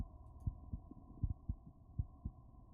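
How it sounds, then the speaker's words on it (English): Faint, muffled heartbeat from the video game Portrait of a Ghost, a steady run of low paired thumps over a soft hum, about two beats a second. "heartbeat growing faster, louder, more erratic with every step"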